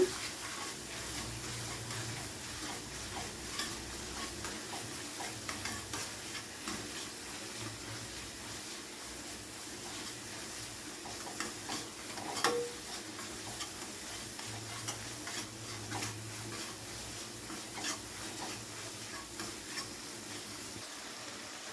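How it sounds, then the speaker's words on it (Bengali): Spiced okra (bhindi) masala being stirred and fried in a pan, with a soft continuous sizzle and faint, irregular scraping strokes of the spoon, quiet and close. "এবারে সমস্ত কিছুকে একসাথে খুব ভালো করে আবারও একবার কষিয়ে নেব।"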